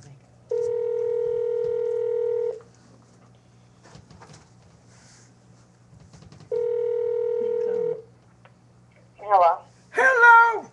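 A telephone being dialed for a prank call, sounding as two long steady tone bursts separated by a pause over a low hum, followed by brief chirping sounds at the end.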